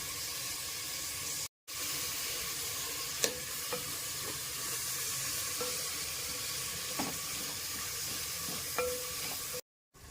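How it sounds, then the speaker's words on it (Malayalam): Onions sautéing with salt alongside crushed garlic and green chilli in a pan, giving a steady sizzle broken by a few scraping stirs and brief silent gaps, close and with no talk. "ഇനി സവാള ഇട്ട് കൊടുക്കാം കുറച്ച് ഉപ്പിട്ട് കൊടുക്കാം"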